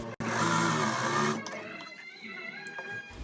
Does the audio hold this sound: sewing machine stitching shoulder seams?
yes